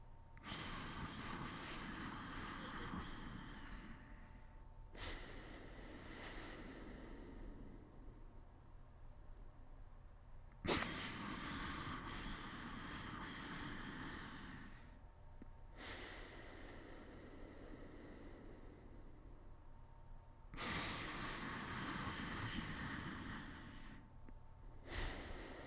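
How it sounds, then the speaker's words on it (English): A person draws long, snore-like nasal breaths through an open throat as a breathing technique, three slow rasping inhales of about five seconds each, close and steady, with pauses between them. "It actually sounds exactly like when you're snoring, I figured out, when you draw the breath basically correctly by opening your throat."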